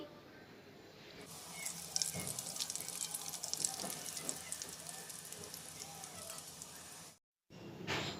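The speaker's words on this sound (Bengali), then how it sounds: "তেলটা গরম হওয়ার পরে বলগুলো ছেড়ে দিচ্ছি।" Small potato balls dropped into hot oil in a wok sizzle and crackle steadily with a dense, bright hiss that holds for several seconds, cut by a brief silence near the end.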